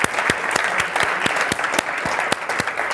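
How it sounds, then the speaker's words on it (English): A crowd claps at the end of a Friday afternoon talk, with a few sharp, louder nearby claps standing out above a continuous bed of applause. "Round of applause for everyone."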